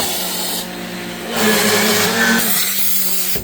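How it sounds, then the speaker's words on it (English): A loud, steady power sander grinds against wooden Shaker cabinet doors, its pitch shifting partway through as pressure changes, with no talking. "almost done sanding those doors"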